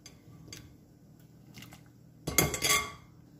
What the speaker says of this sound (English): So I'm adding my potatoes.